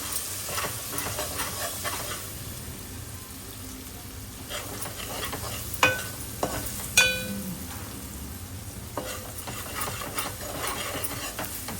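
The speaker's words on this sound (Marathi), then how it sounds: "मसाला पूर्ण शिजून घ्या" Crab curry masala with Kashmiri red chili powder cooks in a pan, giving a soft continuous sizzle with occasional stirring clatters and a couple of sharp utensil knocks.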